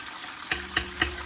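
Bone-in chicken breast frying skin side down in oil, a steady sizzle broken by four evenly spaced scraping or turning taps, close and clear without talk.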